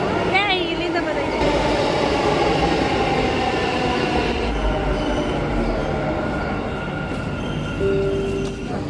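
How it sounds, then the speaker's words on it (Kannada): A metro train pulls into a station with a loud rumble of rail cars, some brief wheel squeal and a descending electric whine as it slows, while people talk nearby. "ಮೆಟ್ರೋ ಬಂತು ನೋಡಿ"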